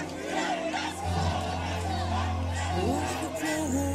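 A large protest crowd in Beirut roars and chants together, a dense wall of voices with rising shouts close at hand, loud and continuous over the whole stretch.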